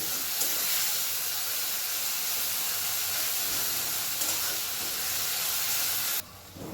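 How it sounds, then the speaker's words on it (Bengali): A thick masala fries over a medium gas flame with a little water added, giving a steady, dense hiss that stays loud and even throughout before dropping at the end. "গ্যাসের ফ্লেমটাকে মিডিয়ামে রেখে মশলাটা খুব ভালোভাবে নাড়াচাড়া করে কষিয়ে নেব"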